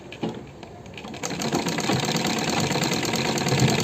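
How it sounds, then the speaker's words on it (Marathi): A sewing machine starts up and runs a seam along fabric edges, its rapid, steady mechanical chatter close and loud after a brief quiet moment. "तर मी ही पहिल्यांदा अर्ध्यातून शिलाई मारून घेतली, त्यानंतर ही कडच्या बाजूने शिलाई मारायची."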